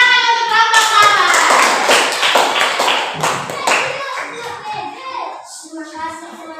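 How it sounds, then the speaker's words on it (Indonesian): Schoolchildren in a classroom clap together for a student group, a lively burst of hand claps mixed with children's voices and chatter that tapers off toward the end. "Kita tepuk tangan untuk kelompok mawar."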